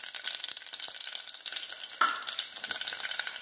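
Tempering spices for a palak dal made without onion or garlic sizzle steadily in hot oil, with a sharp crackle partway through, close and alone with no talk.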